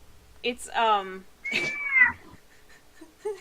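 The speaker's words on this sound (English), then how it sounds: "That sounded like a fake cat at first." A house cat meows loudly nearby, two drawn-out wailing meows separated by a short pause, fairly clear against a quiet background.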